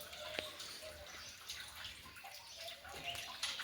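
Water spills out of a bucket at a temple site, a soft continuous splash and trickle with a few drips, faint and steady throughout.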